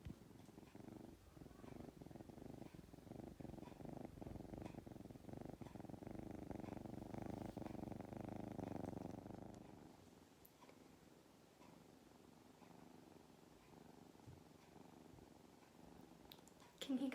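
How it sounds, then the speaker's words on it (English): A pet cat purrs softly and steadily while being petted, a low continuous rumble close by that fades out partway through, leaving a quiet room. "she is purring away"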